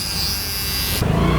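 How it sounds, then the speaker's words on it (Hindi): Electric trimmer or razor buzzing steadily and loudly up close during a high fade haircut, its tone shifting partway through as the blade meets hair. "इसी के ऊपर हमें लेज़र चला देना"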